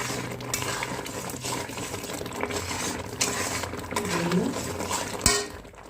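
A spoon scrapes and stirs thick milk cake mixture in a pan on the stove, steady close scraping and clinking with soft bubbling beneath, ending in one sharp metallic knock.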